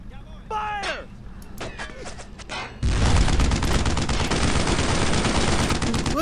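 Gunfire in the World War II shooter game Brothers In Arms: Road to Hill 30, a loud sustained burst of rapid shots filling the second half after shouted voices and scattered earlier noises.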